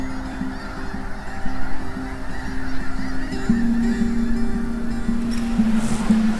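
Geese honk steadily on the St. Lawrence estuary, calls overlapping and fairly close, over a constant wind rush.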